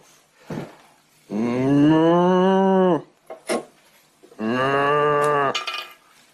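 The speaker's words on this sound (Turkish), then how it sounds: "Bu inek sesi." Two long, loud bovine moos, separated by a short pause and a few brief thuds, heard close and alone.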